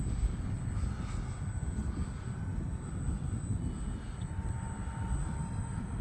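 An E-flite UMX Turbo Timber Evolution RC plane flies at about half throttle on a windy day, a steady buzzing motor drone with gusty wind rumble over it.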